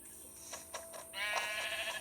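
A Minecraft sheep bleats a few times, short faint calls followed by a longer wavering bleat, quiet and close with light game ambience.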